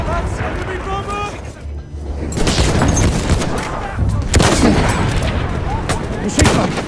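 Battlefield 1 gunfire, including machine gun bursts, crackles loudly and continuously through a chaotic battle soundscape, with shouted voices and other explosive bangs mixed in.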